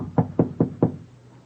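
Four firm knocks on a door by a stranger, evenly spaced about a fifth of a second apart, close and distinct, then quiet.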